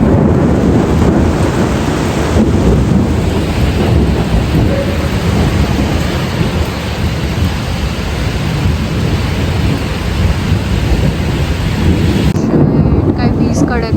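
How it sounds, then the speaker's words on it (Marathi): Thunder rumbles through a heavy monsoon thunderstorm with loud steady rain and wind buffeting the microphone, a deep continuous roar lasting the whole stretch. "काय वीज कडकली होती आता"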